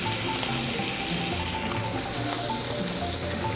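A steak searing in a frying pan, the heat lowered after both sides are sealed, gives a steady dense sizzle and spatter that runs unbroken and fairly close with no talking.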